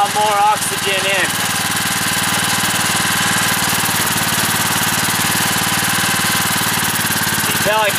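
A generator engine running on wood stove smoke drones loudly and steadily up close, a constant mid-pitched rumble with faint whining tones near the start and end.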